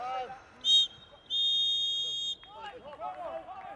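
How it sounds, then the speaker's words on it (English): A referee's whistle at half time of a football match sounds in two shrill blasts, a short one and then a longer held one, over faint crowd noise, with a commentator talking afterward. "And that's the half-time whistle."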